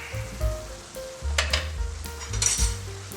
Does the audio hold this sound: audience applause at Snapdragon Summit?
no